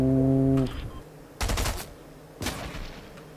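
Game gunfire on a 2006 Mac Pro: a sustained tone cuts off, then two short, sharp bursts of rapid shots about a second apart, each loud against a quiet background.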